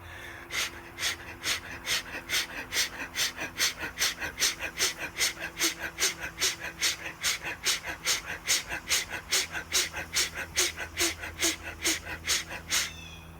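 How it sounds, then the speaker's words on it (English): Rapid, forceful fire-breathing breaths drawn deep into the lungs, a steady, evenly spaced train of about thirty sharp, close breath pulses with no talking. "some fire breathing, in which I rip air down into my lungs"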